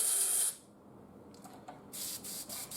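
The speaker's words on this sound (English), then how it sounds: "you will roughly know how to position your airbrush and how you apply it" An airbrush sprays paint, a loud hissing burst at the start, then quieter short puffs and a renewed steady hiss near the end, with no talking.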